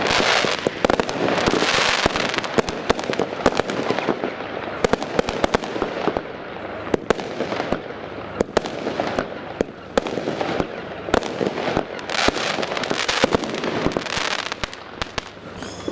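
A fireworks display battery, a two-stage cake with fountains and large bouquets, fires in a rapid, continuous string of sharp cracks and pops, loud and close, with bursts overlapping throughout.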